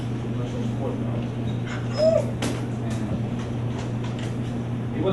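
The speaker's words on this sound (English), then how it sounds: "Max is a purebred 2-year-old German Shepherd." A purebred two-year-old German Shepherd lets out a single short, high whimper partway through, heard over a steady low hum and faint background noise in a prison setting.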